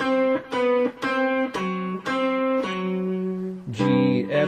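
Guitar picks out a Bach melodic phrase from measure 3, a steady run of eight or so clear single notes in two repeating groupings, each attack ringing and overlapping slightly, played alone.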